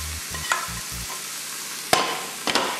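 A spoon scrapes and stirs a mashed potato mixture in a pan, with a few sharp scraping strokes over quiet gaps, plus some low thumping at the start.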